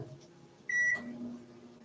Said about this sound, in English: I'm gonna put this in the microwave for 1 minute or maybe 30 seconds just so it's soft enough to come out.